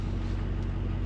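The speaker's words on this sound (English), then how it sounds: "I can't get over the fact of how good my truck sounds" A pickup truck engine idles steadily and close by, a continuous low rumble with no talking over it.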